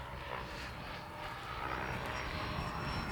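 Freewing JAS-39 Gripen 80mm EDF model jet with thrust vectoring flying overhead, a steady rushing ducted-fan whine that stays distant and fairly faint against breezy outdoor air, with no talking.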